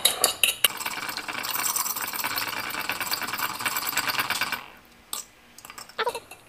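A single egg whisked briskly in a bowl with a steady, rapid metallic clatter that runs for about four seconds, preceded by a few sharp taps and followed by scattered clinks.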